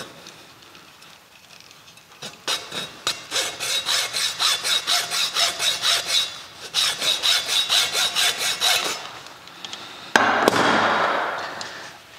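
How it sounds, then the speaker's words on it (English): A hacksaw cuts a small wooden plug for fitting a Victorian door, in quick, rhythmic back-and-forth strokes that come in two runs. A short pause separates them, and a rougher scraping burst follows at the end. "Take a hacksaw and just very carefully cut"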